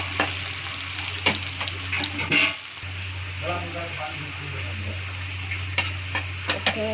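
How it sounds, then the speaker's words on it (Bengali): Cumin seeds and onions frying in oil in a pan, a steady low sizzle running throughout with a few sharp clinks and stirring knocks scattered across it. "জিরাটা একটু ভাজা ভাজা করে দেবো।"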